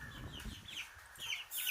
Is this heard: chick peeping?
yes